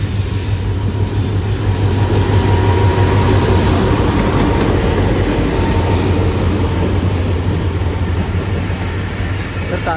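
A Karachi Circular Railway commuter train, a short three-coach KCR service, arriving at a station: a loud, steady rumble of wheels and rail noise running unbroken for the whole stretch, with faint squealing on top and no voices.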